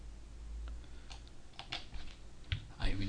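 Rapid typing on a computer keyboard while entering a command in a terminal, a steady stream of close, crisp key clicks over faint background hiss.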